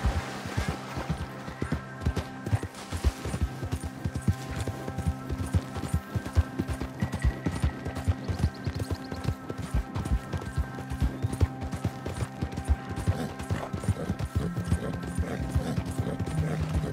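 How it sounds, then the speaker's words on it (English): Horse hooves clip-clop steadily in the Red Dead Online video game, a continuous rapid rhythm of hoofbeats with faint game ambience and no talking. "Just look at that horse."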